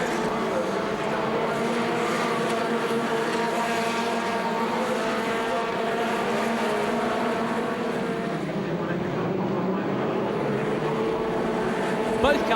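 Pack of stock race cars on the warm-up lap, their engines droning together in a continuous, steady roar at a distance beneath a commentator's voice.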